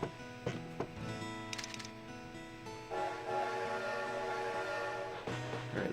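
A train in the Animal Crossing video game on GameCube, a steady rumbling hum with layered tonal game music and a few short chime-like accents running continuously at a moderate, even level.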